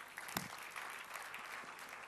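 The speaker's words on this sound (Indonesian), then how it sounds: "tepuk tangan" A church congregation applauds after a sermon, a steady wash of clapping at moderate distance with no one speaking.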